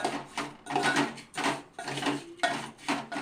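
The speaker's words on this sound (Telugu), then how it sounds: "సేమియా పుల్లలేమో దీంట్లో ఇదిగోండి వేపుతున్నాను." Thin vermicelli sticks are stirred in a hot pan, giving repeated scraping, clattering rattles in uneven bursts, close and moderately loud with short pauses between strokes.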